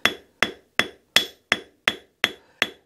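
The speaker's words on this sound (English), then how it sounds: "I'll start forging the wire with my forging hammer" Eight sharp, evenly spaced metallic blows from the cross peen of a forging hammer striking sterling silver wire, each ringing briefly and decaying quickly, close and loud with nothing else heard.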